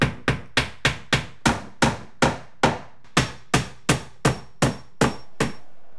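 Finish nails hammered by hand into wooden trim, about fifteen sharp, evenly spaced strikes ringing out close and loud in a steady rhythm, with no talking.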